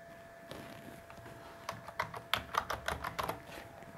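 Quick, uneven bursts of keystrokes on a computer keyboard, soft and close, with a few denser clusters of clicks near the end.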